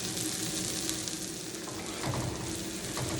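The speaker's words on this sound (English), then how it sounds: "And I love that sizzle." Steady, loud sizzling of onions and tri-colored bell peppers frying in a hot skillet, a constant crackling hiss with faint stirring scrapes near the end.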